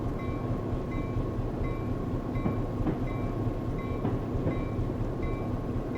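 A train rumbles steadily in the Train Simulator 2014 video game on the Stevens Pass route, a continuous low mechanical drone with faint periodic clicks and a whining tone, with no talking over it.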